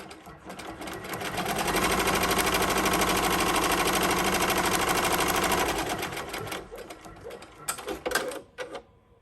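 An embroidery machine stitching applique whirs up into a fast, steady mechanical rattle that holds at full loudness for several seconds, then winds down into a few scattered clicks and knocks.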